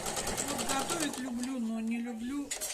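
A sewing machine stitches home textiles, running steadily as a close, continuous mechanical hum with a rhythmic rattle throughout, partly masked by a person talking over it.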